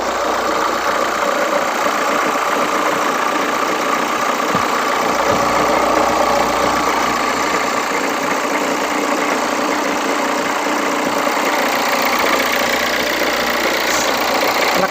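A noisy Hyundai Santa Fe engine idles continuously for the whole stretch, a dense steady rumble with a rattly, vibrating edge, close and loud with no talking.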